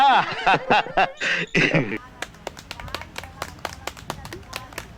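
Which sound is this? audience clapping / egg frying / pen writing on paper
audience clapping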